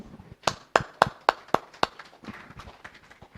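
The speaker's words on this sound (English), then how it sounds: "A round of applause for our rapporteur." A small group gives a short, sparse round of claps for the rapporteur at an energy access symposium in Abuja. About eight distinct, fairly close claps come first, then softer scattered ones trail off.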